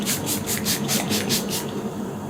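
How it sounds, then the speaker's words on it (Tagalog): Several quick pumps of an EB Advanced Lock That Look makeup setting spray mist out in a steady rhythm, each a short airy hiss close by, over a low background hum with no talking. "So I'm using this EB Advanced Lock That Look Makeup Setting Spray."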